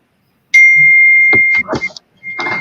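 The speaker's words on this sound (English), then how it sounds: "Who keeps ringing? Whose bell is that?" A bell ding rings out as a steady bright tone for about a second, breaks off under people talking, then briefly sounds again near the end.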